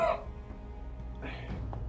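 A wounded inquisitor coughs out during a tabletop fantasy role-play scene, one short cough at the start and a fainter throat sound later, both voiced by a performer imitating the cough.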